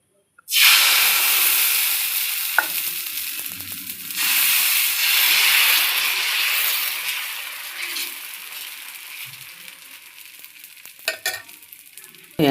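Wheat-flour dosa batter hits a hot griddle with a sudden loud hiss that settles into a long, steady sizzle, swelling again midway, with a few light scrapes and taps of a spatula.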